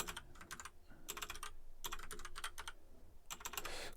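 Typing on a computer keyboard: bursts of quick, clicky keystrokes in several rapid runs separated by short pauses, close and fairly quiet.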